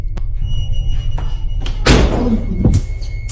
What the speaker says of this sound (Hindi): फिर दरवाजे अपने आप बंद होने लगे